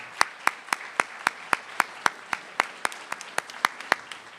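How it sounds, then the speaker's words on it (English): An auditorium audience at a spring 2014 honor society induction ceremony applauds parents, friends and family: a steady crowd clap with crisp, regularly spaced individual claps cutting through, moderately loud and without speech. "I would like to have everyone give a round of applause for the parents, the friends, the family who helped our inductees get where they are today"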